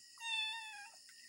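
A house cat gives a single clear meow lasting about a second, near and fairly loud, with no talking.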